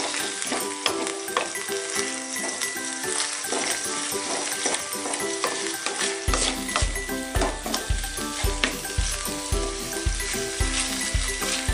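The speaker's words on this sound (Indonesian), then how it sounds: "sekarang kita masukkan udangnya ya. Dan aduk terus." Shrimp fry and sizzle steadily in a pan as they are stirred, with scraping stirs over the continuous hiss. Background music with a thumping beat plays throughout.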